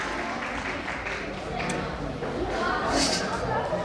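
Applause from a birthday party crowd welcoming Hovhannes, a sustained wash of clapping that swells slightly toward the end, with voices mixed in.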